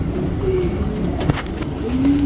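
A Kulmai patta pigeon gives a few soft, low coos against steady background noise, fairly close but faint.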